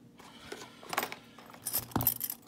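Three keys for an Abus E90 lock jangling and clinking together, loose metallic rattles in short bursts, near and fairly quiet, with no talk.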